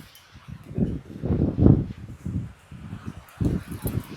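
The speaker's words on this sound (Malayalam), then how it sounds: "ഓ ഇത് കാറ്റ്" Gusty wind buffets the microphone in low, rumbling bursts that rise and fall over a few seconds.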